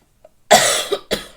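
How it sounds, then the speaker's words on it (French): A single sharp cough, close and loud, followed by a second shorter cough after a brief pause, with near silence before. "comment j'ai toussé?"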